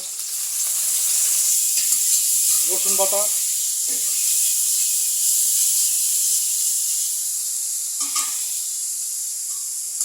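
Onion, salt and garlic paste sizzle steadily in a hot pan while a silver carp curry is started, a constant bright hiss filling the whole clip, with a few brief speech-like bursts over it.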